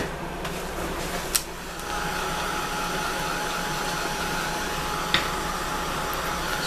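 A heat tool or dryer drying paint on a craft art piece gives a steady, continuous blowing whir at even loudness for the whole stretch, with two brief clicks or knocks.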